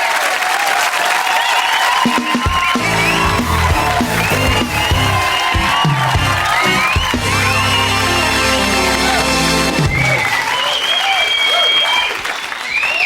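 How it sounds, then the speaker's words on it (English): Loud, dense studio audience applause and cheering with whoops for a contestant on a British TV comedy variety show, a continuous roar lasting over ten seconds, mixed with music and voices. "big round of applause for Cliff White!"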